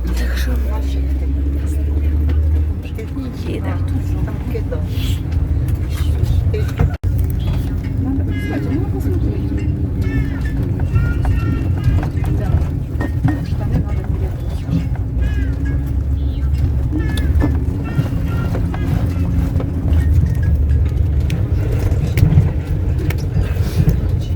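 A car on the road near Odesa, packed with bags, gives a steady low engine and road rumble through the whole stretch, with people talking inside the cabin over it.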